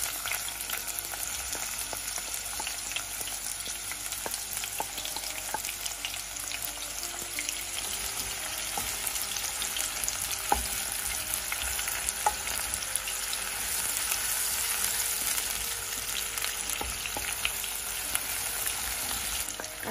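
Chopped onions frying in about two tablespoons of hot oil, a steady dense sizzle and crackle holding level throughout with occasional sharper pops, close and unbroken, no talking.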